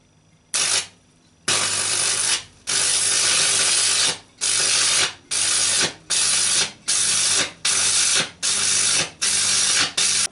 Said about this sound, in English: I can then weld over it with a 3mm rod.